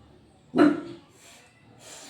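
A single close dog bark or yelp rings out, followed by faint, distant barking from outside, as an older dog warns younger puppies.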